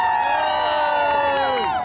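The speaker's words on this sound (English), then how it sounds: "Look at this crowd." A large outdoor crowd cheers and shouts continuously at a Trump political rally outside Trump Tower in New York City, a loud, dense wall of voices with whoops rising above it, no clear individual speech.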